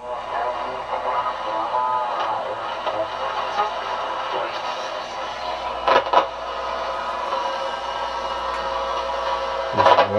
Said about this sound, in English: still some horrible static though when you hit certain things.